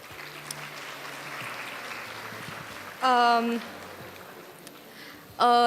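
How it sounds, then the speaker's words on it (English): Applause fills a school Model UN closing ceremony as a soft, continuous patter, then a loud voice on a microphone cuts in twice over the fading clapping. "Just a huge round of applause for TBSU Man."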